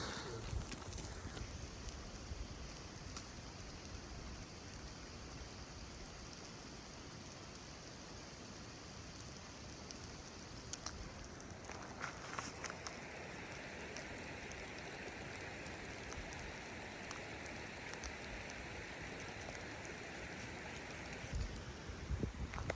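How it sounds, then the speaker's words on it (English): Sleet and snow fall in a stormy river gorge, a steady broadband patter like light rain on surfaces, with wind and flowing water beneath, continuous at a moderate level and without voices. "It's just straight, pretty much snowing at this point. Maybe a little bit of like sleet mixed in, but I think mostly snow."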